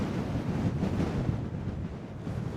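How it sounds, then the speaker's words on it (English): Strong wind buffets a tent pitched on a moorland hilltop on Bleaklow in the Peak District, a steady loud roar with gusty surges and microphone rumble throughout, no voices. "The wind is definitely way more than forecast."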